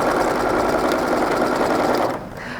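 Sewing machine running steadily as it stitches strips of fabric together for a patchwork courthouse-block table runner, a continuous close whir that stops abruptly near the end, leaving a quieter hum.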